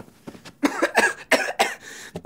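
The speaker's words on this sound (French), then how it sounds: "tu tousses, t'es malade?" Several dry coughs from a cartoon character, in short uneven bursts with brief pauses between them, heard close and clear without other talk.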